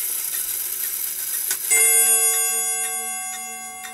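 A Yantar wall clock strikes a single chime, a bright metallic tone that rings out loud and close, then decays slowly over several seconds after a stretch of faint ticking.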